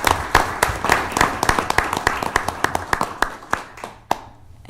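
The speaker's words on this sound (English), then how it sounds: "let's give her another round of applause" A small audience at a city council meeting gives a round of applause, distinct close hand claps in an uneven patter that thins out and stops near the end.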